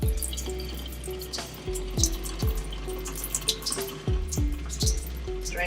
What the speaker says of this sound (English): Okay, drain the water.